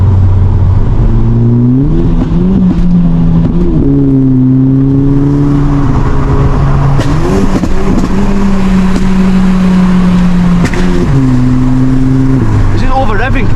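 A tuned Golf GTI's engine drones loud and close from inside the car during a drive, its pitch climbing and holding as it revs high, with several rises and drops in engine speed and occasional voices over it.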